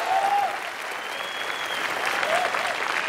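Television comedy show studio audience giving loud applause, a thick continuous roar of clapping with crowd noise and a few faint whoops riding on top.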